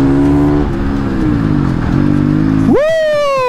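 A Honda CRF450 supermoto motorcycle slides sideways, its engine loud and close, holding a wavering tone before revving sharply upward near the end.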